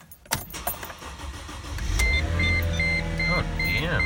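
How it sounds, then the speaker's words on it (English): 2005 Mercedes-Benz C240 starting in cold weather: a few clicks and a short cranking burst, then the engine catches and settles into a steady idle drone with a faint whine, heard close up with no talking. "let's see if this car will start in the cold weather"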